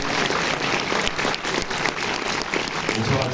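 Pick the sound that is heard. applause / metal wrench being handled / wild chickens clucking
applause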